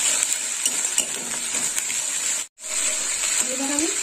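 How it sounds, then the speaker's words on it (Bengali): Ground spice paste sautéing in oil hisses steadily at close range, broken by scraping stirs and light clinks of a spoon against the pan, with one short gap partway through. "দিয়ে দিলাম বেটে রাখা মশলা। মশলাটা একটু কষে নেব।"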